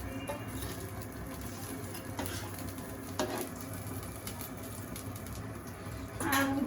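Fish goes into a pan of cooked-down masala for a Bengali bata fish curry, giving a steady, quiet sizzle with occasional stirring scrapes and clinks of the pan.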